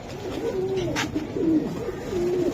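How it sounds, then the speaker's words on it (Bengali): A Khoira Golap bloodline pigeon of an old breed coos in low, throaty rolling phrases, close and fairly loud, repeated several times over quiet background noise. "এটা পুরান জাতের একটা খয়রা গোলাপ ব্লাড লাইনের কবুতর"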